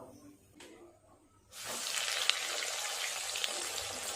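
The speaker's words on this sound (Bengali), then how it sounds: "এইভাবে বাকিগুলোকেও ভাজা করে নেব।" Chicken chops drop into hot oil and a loud, steady hiss of frying swells up after a quiet start, with occasional crackles and pops rising over the sizzle.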